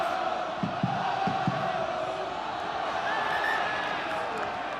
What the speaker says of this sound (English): The crowd are starting to roar their team on.